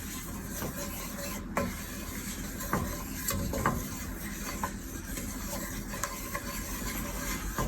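A blonde roux is stirred in a pan for chicken pasta, giving a steady sizzling hiss broken by occasional soft scrapes and taps of the utensil against the pan, all at a low, even level.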